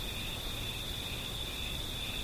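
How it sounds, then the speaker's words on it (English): Crickets chirp in a steady, faint, continuous high trill, heard alone with no voices over a soft background hiss. "There's the sound of the crickets"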